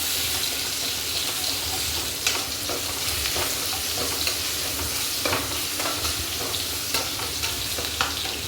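Ginger-garlic paste frying and being stirred in a pan for prawn poha, a continuous close sizzle and hiss with occasional scraping stirs, no talking.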